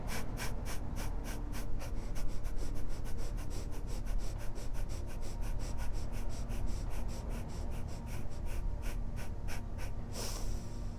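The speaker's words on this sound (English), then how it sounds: "breathe in through the nose and breathe out through the nose very deeply, very quickly" Rapid nasal breathing in a guided meditation's breath of fire exercise, quick forceful puffs through the nose repeating in a steady fast rhythm for many seconds, close and alone with no talk.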